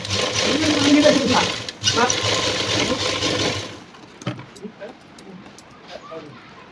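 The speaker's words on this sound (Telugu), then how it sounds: "లైనింగ్ క్లాత్ మీద మొత్తం అంతా కుట్టు అయితే వేస్తున్నాను అనమాట" Sewing machine running steadily as it stitches the lining cloth of a work jacket, a dense buzzing hum for nearly four seconds that then stops, followed by a few faint clicks and handling noises while a person talks.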